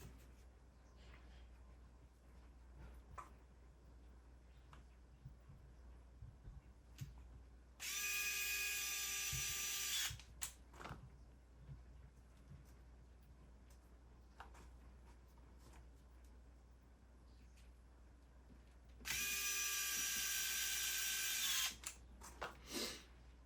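A small power screwdriver drives tiny screws to bolt a transmission back into a Traxxas TRX4M RC crawler, two separate steady whirring bursts of about two seconds each against quiet handling noise.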